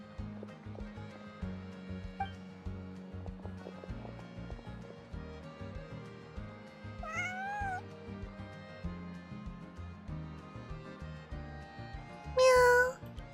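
A cat meows in Genshin Impact, with a wavering cry around the middle and a louder, sharper one near the end, both over steady game music.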